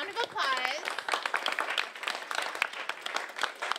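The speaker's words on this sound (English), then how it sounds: "give yourselves all a round of applause" Brief applause from an audience at a high school student health survey presentation, a patter of claps mixed with voices over about four seconds.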